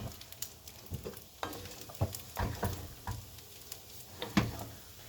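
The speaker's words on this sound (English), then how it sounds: "And we're just going to give this all a stir together." Shrimp and edamame being stirred in a hot pan, with a soft sizzle under irregular scrapes and clacks of a utensil against the pan.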